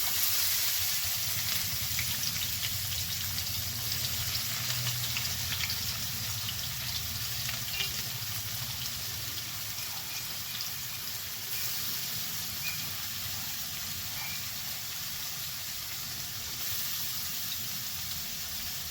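Finely chopped onions sizzle steadily in hot oil with a bay leaf and a dry red chili for a paneer tikka dum biryani, a continuous close, dense frying hiss with no voices.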